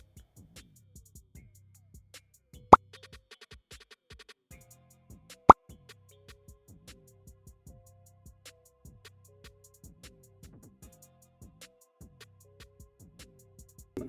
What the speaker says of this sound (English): Let's also add the sound effect transition.